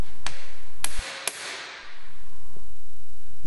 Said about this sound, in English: Then we need to go ahead and use our impact screwdriver.